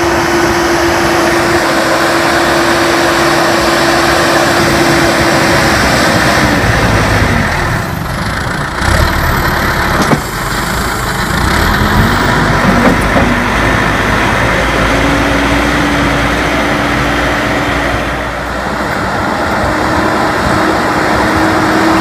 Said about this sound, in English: Catapillar sure can push a lot of snow